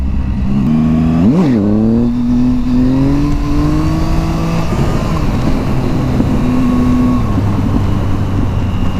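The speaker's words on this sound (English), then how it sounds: "That was the first wheelie I've ever done with this bike." Triumph Speed Triple motorcycle engine revving hard through a wheelie, a loud steady roar that rises sharply in pitch, dips, then climbs and holds a high throttle note before easing off, close and continuous with no talk.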